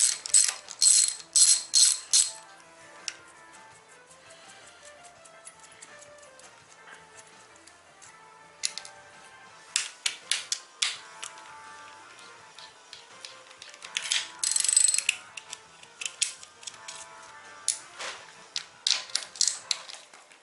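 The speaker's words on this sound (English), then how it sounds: "You're going to need a deep socket, and these are all 9-10 millimeter bolts that hold the valve cover down." A ratchet with a deep socket loosens the 9-10 mm valve cover bolts on a 1.8T engine, producing bursts of rapid clicking separated by quieter pauses, close and crisp with no speech.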